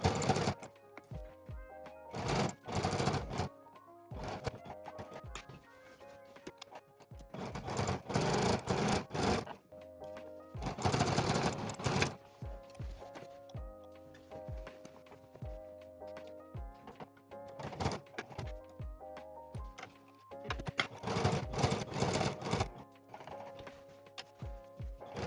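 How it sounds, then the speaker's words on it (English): A sewing machine top stitching dungaree seams, running in repeated bursts of rapid mechanical stitching separated by short pauses, close and fairly quiet with no speech. "Now I'm top stitching these down with the same seam allowance that I had done previously."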